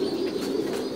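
Domestic pigeons on a Vietnamese pigeon farm cooing steadily, a low continuous throaty murmur close by with a faint high background tone throughout.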